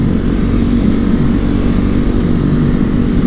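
A 2007 Honda CRF450X converted to supermoto with street tires rides along roads, its single-cylinder engine droning loud and steady close to the microphone throughout, with no talking.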